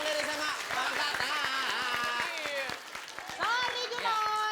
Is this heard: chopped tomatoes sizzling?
no